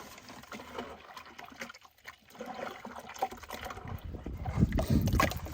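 Water pours and splashes into a bucket in preparation for mixing plaster for a fossil field jacket, a continuous liquid trickle and slosh that grows louder toward the end.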